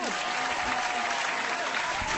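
A live studio audience on a talk show breaks into a short burst of dense, steady clapping, loud and close throughout.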